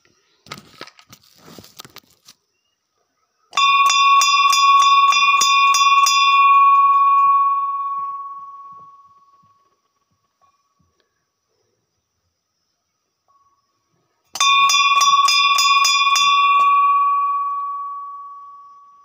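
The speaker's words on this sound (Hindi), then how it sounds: "तो गाइज घंटी वगैरह तो बज चुकी" A bright metal Hindu temple bell is struck twice with a long pause between, each ring sustaining and slowly fading, loud and near.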